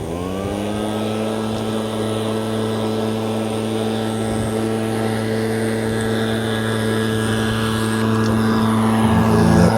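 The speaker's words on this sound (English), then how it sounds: "Park workers clearing the leaves off the track." Park workers clearing leaves off a bike track in Belair National Park, heard as a loud, steady engine drone with strong sustained tones, likely a leaf blower, running continuously close by and growing slightly louder toward the end.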